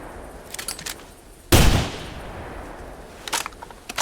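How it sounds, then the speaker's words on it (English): A single loud rifle shot fired at an animal in theHunter during a driven hunt, a sharp crack with a trailing echo, alone against quiet outdoor ambience with faint clicks before and after. "I shot it."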